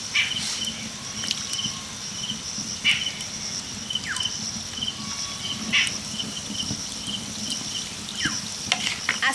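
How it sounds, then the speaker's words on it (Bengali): Dough balls frying in hot white oil in a wok give a steady, low crackling sizzle, with sharp pops and spits breaking through every second or two at close range. "এবার একে একে বলগুলোকে আমি তেলের মধ্যে ছেড়ে দেব।"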